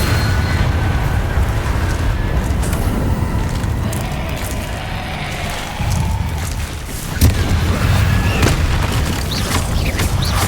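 Confringo fire spells blast repeatedly in Hogwarts Legacy, deep booming explosions over a constant low rumble of combat, with a sharper crack near the end and no talk.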